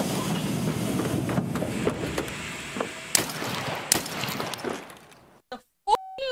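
Rumbling, clattering train movement from the Escape From Tarkov video game, a steady mechanical rush with sharp clanks and shot-like bangs, fading into near silence and ending in a brief tonal beep.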